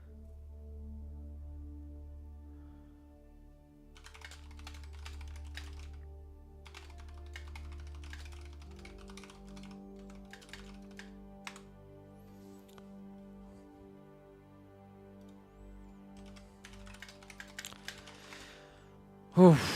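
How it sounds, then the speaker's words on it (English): Bursts of fast typing on a computer keyboard, the clicks close and crisp over a low steady hum, pausing and resuming in several runs while a person talks softly at times. "Just typing out quickly."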